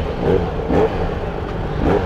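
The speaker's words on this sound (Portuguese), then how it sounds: "O bagulho tá muito baixo, o barulho da moto" Yamaha XJ6 motorcycle engine on its original exhaust, running steadily in a low, quiet rumble with slight rises in revs, close by and without talk.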